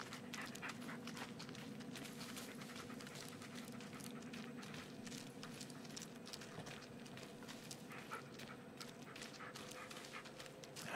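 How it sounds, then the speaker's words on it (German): Bullet the dog pants steadily in Blair Witch, a continuous rhythmic breathing close by beneath a low ambient game background. "Also der Hund, also Bullet ist immer noch neben uns."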